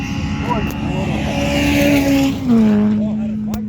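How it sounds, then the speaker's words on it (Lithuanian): A powerful rally car engine drones loudly nearby, its pitch sliding as the car revs and accelerates past, with a person talking over the roar. "Varikliai galingi."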